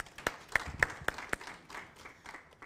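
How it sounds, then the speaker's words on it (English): Audience at a Jamhuri Day media breakfast clapping, a scattered burst of hand claps with several distinct sharp claps early on, fairly faint and thinning out. "Can we give him a round of applause?"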